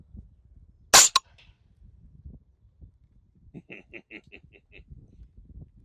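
A 9mm pistol-caliber carbine fitted with a Yankee Hill N20 suppressor fires one sharp, loud report with a quick second crack right after. Faint ticking and light clicks follow in the quiet outdoor background.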